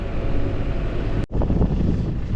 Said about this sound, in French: je sais pas si on entend un petit peu le vent